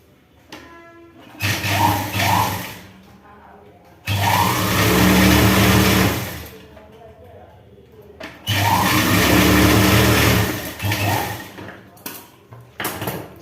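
A sewing machine stitches a chudi sleeve in long, loud whirring runs of a few seconds each, separated by short pauses, with a voice talking in between.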